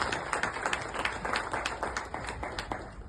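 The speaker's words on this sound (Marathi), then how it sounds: "जोरदार टाळ्या नाशिककरांच्या स्पिरिटसाठी" Audience applause at a public talk in Nashik about Kumbh Mela preparations, dense close clapping from a crowd sustained through the whole short stretch.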